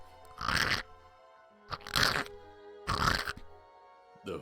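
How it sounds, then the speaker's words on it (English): Three loud, heavy crunching bursts in steady succession, each a rough grinding crunch, followed by a shorter fourth crunch, standing alone with quiet gaps between them. "Grinding noise, a crunching noise."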